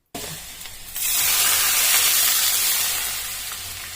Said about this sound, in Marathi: ते गरम करून घ्यायचं आणि ते टाकायचंय थोडक्यात याला गरम तुपाची फोडणी द्यायची